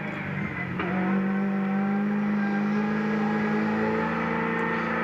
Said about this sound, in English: There's Lowndes' car.